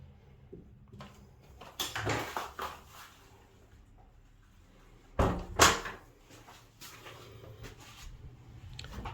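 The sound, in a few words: door opening and closing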